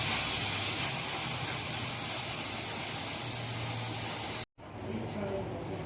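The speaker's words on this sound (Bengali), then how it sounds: "এবার আমি এতে জল অ্যাড করব।" Loud, steady hiss and sizzle as water is added to rice frying in a hot pan for basanti pulao, continuing for several seconds before a brief cut, then a quieter sizzle resumes.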